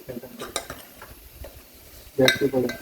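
Onion masala fries in a pot over a gas flame at a lakeside campsite, with quiet sizzling under scattered stirring scrapes and clinks, then a louder burst of vigorous stirring near the end.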